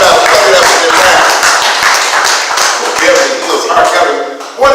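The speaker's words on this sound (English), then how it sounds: "Give yourselves a round of applause." Dense audience applause and clapping fills a small room after a spoken word poetry performance in an art space, loud and continuous with scattered cheers.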